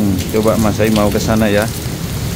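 Heavy rainstorm pouring in the city of Mecca, a loud continuous hiss of rain on surfaces under someone speaking briefly, with no distinct thunder.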